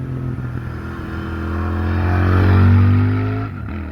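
A twin-cylinder retro motorcycle, one of a Royal Enfield Interceptor 650, Triumph Street Twin or Moto Guzzi V7 III, gives a close, steady exhaust burble that swells to a louder, deeper drone as the engine revs rise, then drops off near the end.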